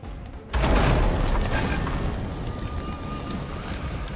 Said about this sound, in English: The galleon went down to my mega keg,